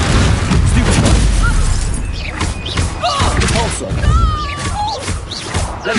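Confringo and Repulsor spells burst in Hogwarts Legacy combat, heavy thuds and blasts layered with whooshing magic effects, while voices call out over the fighting.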